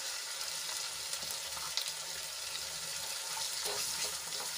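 Onion sautés in ginger, garlic and chili paste, giving a constant, close, even frying sizzle with faint occasional stirring clicks and no talking.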